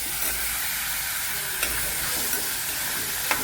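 Chopped half-portion of tart country tomatoes sizzling steadily in a hot pan for chicken curry, with a few scraping stirs of a spoon breaking through the constant frying hiss.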